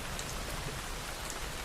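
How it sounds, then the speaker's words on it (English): Steady rain falls gently with a dense, even hiss of drops on surfaces, continuous and unbroken, with no voices. "Listen to the sound of the rain gently falling in the background."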